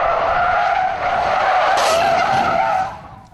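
A Dacia Logan's tyres squeal in a loud, sustained skid through a moose avoidance test at 80 km/h, the screech holding steady and then fading out as the car exits the manoeuvre.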